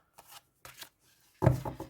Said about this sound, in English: So yeah, that's my worst shuffle.